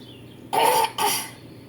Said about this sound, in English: I do got to clear my throat.